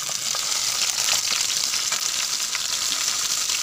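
Chopped tomato tipped into browned onions frying in a pan for a potato dish, giving a steady, close, bright sizzle with crackling spits throughout and no voices.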